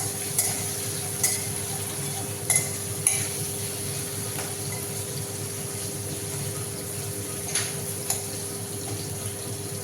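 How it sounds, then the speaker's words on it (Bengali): Eggplant slices frying in a pan give a steady low sizzle throughout, with a few sharp clinks and scrapes of a utensil against the pan scattered across the span; no voices. "আর এখানে বেগুন ভাজা চলছে।"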